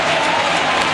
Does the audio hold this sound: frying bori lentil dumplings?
no